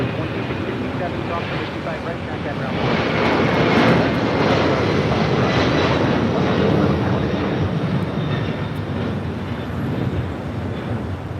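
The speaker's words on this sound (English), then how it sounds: "This is Skylease Cargo 4873 taking off to Shaman on a 747-400 freighter." Boeing 747-400 cargo freighter taking off at LAX, a broad jet-engine roar that swells to a peak midway and holds steady, heard from a distance with wind rumble.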